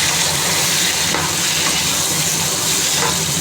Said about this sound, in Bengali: আমি এর মধ্যে আলুটার মধ্যে মাছটা দেবো। মাছটা দিয়ে একটু নাড়িয়ে নিয়ে